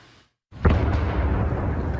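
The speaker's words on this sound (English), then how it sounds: "Explosions echoing from above in Kyiv." Explosion in Kyiv during a daytime Russian attack, a sudden heavy boom after a moment of silence that rolls on as a long rumbling echo overhead.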